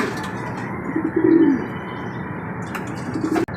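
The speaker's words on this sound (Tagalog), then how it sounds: "Mga cute na mga batang ibon." Young racing pigeons coo softly nearby, one low throaty coo rising clearly in the middle and a fainter coo near the end, over a steady background hum.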